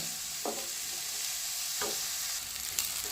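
Onions fry gently in a pan for tempering, a soft steady sizzle with two or three brief scraping stirs, quiet and close with no talking.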